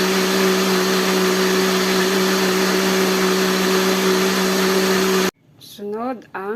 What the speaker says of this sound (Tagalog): Blender na natin ang luya